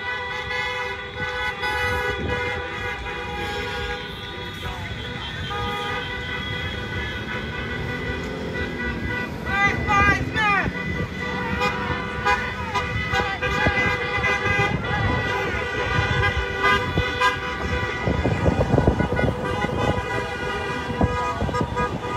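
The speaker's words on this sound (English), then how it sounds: "for the most part, it's been honks of support" Car horns honk repeatedly from passing traffic at a street protest in west Toledo, short toots scattered over steady road noise, with a person talking faintly underneath.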